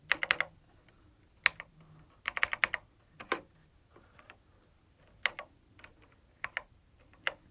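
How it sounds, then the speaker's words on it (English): Close-up typing on a Commodore 64 keyboard: bursts of crisp key clicks separated by short pauses, fairly quiet. "Of course, typing it."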